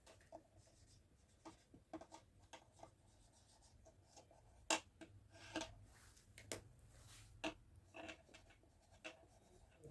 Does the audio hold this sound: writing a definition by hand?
yes